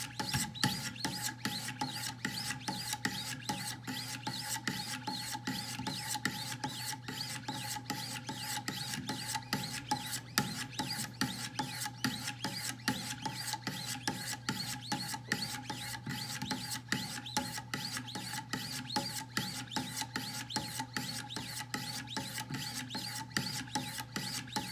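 Sharpening stones on a Wicked Edge guided sharpener stroke steadily along the heel of a Hinderer knife blade, giving a dense, continuous rasping scrape with rapid, even strokes and no voices.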